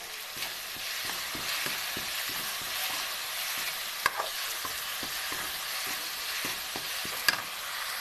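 Spiced okra fries in a pan with a steady hiss of sizzling oil, while a spoon stirs it in repeated scraping strokes, with a couple of sharper clicks of utensil on pan.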